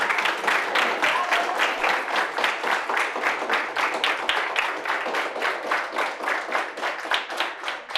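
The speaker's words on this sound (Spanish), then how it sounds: "Le damos un fuerte aplauso." Sustained, dense applause from an audience at a university talk on the study of flies, steady and fairly loud throughout, with scattered individual claps standing out from the crowd.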